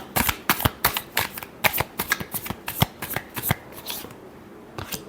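Tarot cards are shuffled by hand in a quick run of crisp, papery flicks and slaps, dense at first and then thinning out, close and clear with no voices.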